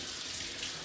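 Hot water runs steadily from a kitchen tap in a home in Helsingborg, a close, even hiss and splash with no voices.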